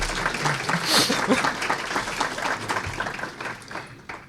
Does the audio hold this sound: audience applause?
yes